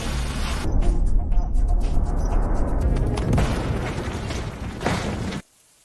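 A huge blast detonated beneath a road to break the rock in a heist film, heard as a sustained loud roaring rumble with debris crackle lasting several seconds, then cutting abruptly to silence.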